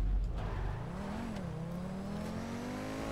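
Car engine in GTA Online holding a loud, steady drone that dips and climbs in pitch as it revs while driving, close and continuous with no talk.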